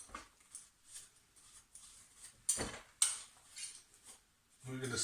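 Cutlery being washed up clinks and clatters faintly in a sink, with scattered metallic ticks and a couple of sharper knocks amid soft water and handling noise.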